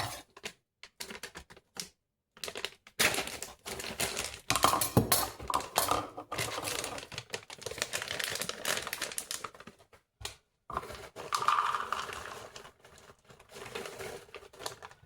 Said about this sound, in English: a cup of pecans. I'm going to cut them up a little bit.